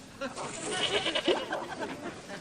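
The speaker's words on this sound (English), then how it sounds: "It's your goat." A goat bleats in a sitcom scene, a wavering nasal cry running through most of the moment at moderate loudness, mixed with faint background voices or studio laughter.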